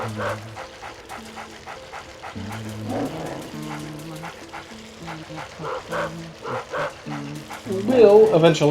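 A small dog in the video game Luigi's Mansion barks and yaps repeatedly over a bouncy tune, with a voice talking over it.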